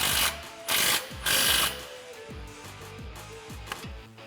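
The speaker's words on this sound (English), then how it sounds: "we can reinstall our spring retainer clip with a 13mm socket" Ratchet with a 13mm socket and extension reinstalls a spring retainer clip on a Jeep Wrangler TJ during a lift kit install, a few bursts of fast clicking followed by slower individual ratchet strokes, close and alone.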